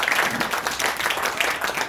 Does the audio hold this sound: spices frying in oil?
no